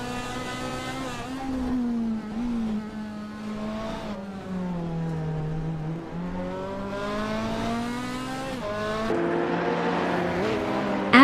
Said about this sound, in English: Maya is driving a Ferrari 488 GT4, which is known for its sharp handling and speed